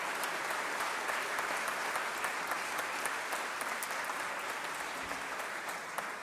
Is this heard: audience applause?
yes